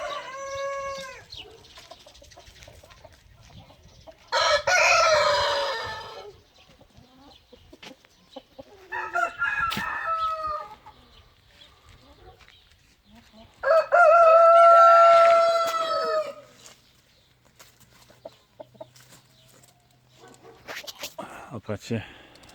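Chickens fed a green onion salad cluck in separated bursts, with a rooster's loud crow among them, close by in a quiet yard.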